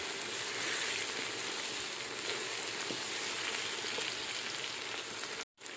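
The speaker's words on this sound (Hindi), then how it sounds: "इसको थोड़ा सा और भून लेते हैं।" Masala with lemon fries in a pan for fish karahi, giving a loud, continuous close sizzle with faint stirring textures. It cuts out briefly near the end, then resumes.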